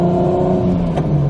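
A turbocharged street car, fitted with a Precision 68/70 NexGen turbo, drones steadily under acceleration with a cold transmission, with a brief notch in its tone near the end; the sound is close, loud and continuous, with no talking.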